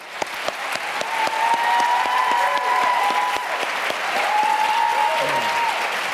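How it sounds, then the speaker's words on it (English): Audience at a Virginia attorney general debate gives both candidates a full round of applause, steady clapping that swells and holds for several seconds, with a tone sounding faintly underneath. "I think this is one time when we ought to just give them both a real round of applause."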